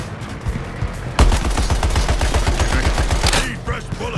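Rapid bursts of automatic gunfire crackle in the Suicide Squad Kill the Justice League video game, starting suddenly after a quieter stretch and running as dense repeated shots before trailing off near the end.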